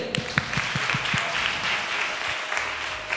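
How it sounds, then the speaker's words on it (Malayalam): A live audience claps together at a talk during a summer camp, a dense burst of hand claps lasting a few seconds. No one speaks over the applause. "എല്ലാവരും ഒന്ന് കൈയടിച്ചേ"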